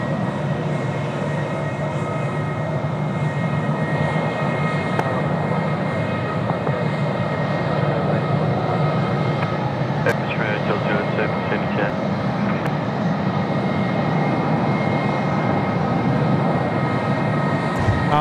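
A Korean Air Boeing 787-10 on approach to Sydney Airport gives a steady, continuous jet engine roar that holds evenly throughout, with voices talking over it.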